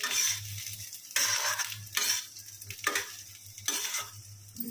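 Grated coconut fries lightly in oil for coconut chutney, a bright sizzle broken by repeated stirring strokes that come in bursts, each followed by a brief quieter pause.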